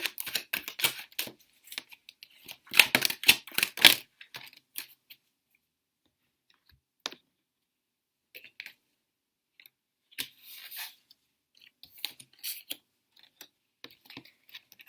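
Tarot cards being shuffled make dry, papery riffles and soft taps in irregular bursts, with a dense flurry early on and sparser clicks and flutters later, heard close up with no talk.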